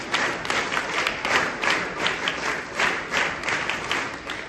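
Students at a school investiture ceremony at KV 3 ONGC Surat performing a scout clap, a crowd clapping in unison in sharp, regularly spaced bursts that pulse in a steady rhythm at moderate, slightly distant volume.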